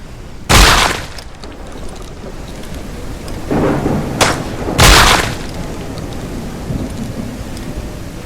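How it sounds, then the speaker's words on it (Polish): Steady video game rain pours throughout while two loud thunder cracks boom out, followed by a lower rumble, with no voices, in the survival game Mist Survival. "Ale ten deszcz jest tak cholernie głośny."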